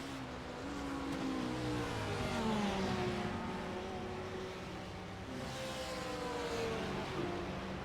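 GT3 race cars, among them a Porsche, circle a road course at Canadian Tire Motorsport Park. The engine drone runs continuously, its pitch rising and falling with gear changes and acceleration, and a second engine joins toward the end.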